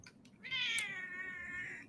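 A Bombay cat gives one drawn-out, slightly plaintive meow up close. It rises and then trails off, heard alone against a quiet background.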